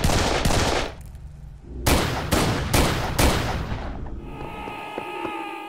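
Semi-automatic SOP-38 pistol from Serious Sam 3 firing in a game, a run of sharp, loud shots: two quick ones, a pause, then four evenly spaced reports, fading into a ringing tonal tail.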